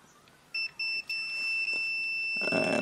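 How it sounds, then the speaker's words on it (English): A multimeter set to diode mode beeps while testing a valve radio's earth connection: three short steady electronic tones in quick succession, then a longer sustained beep, loud and clear against a quiet room, ending in a brief burst of noise. "Multimeter set to diode, and I want to hear a beep."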